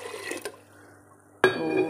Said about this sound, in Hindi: और अब मैं इसमें डालूँगी इसी के हिसाब से पानी